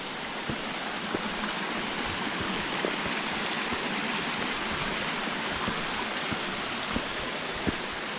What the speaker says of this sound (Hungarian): Mindenki élvezze ki a patak csobogását, madarak csicsergését.